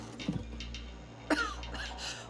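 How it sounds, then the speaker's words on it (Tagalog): A zombie in the video game Dying Light 2 coughs a couple of times, rough and raspy, heard alone over a low steady in-game background hum. "May umuubo."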